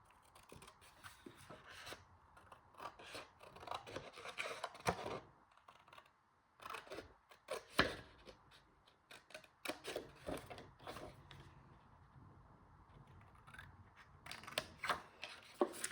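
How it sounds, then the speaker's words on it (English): Paper being cut along a score line while making a mini storage holder for tags, heard as close, quiet snips and rustles in irregular bursts with short pauses between them. "So we're going to cut along that score line and this score line and remove that."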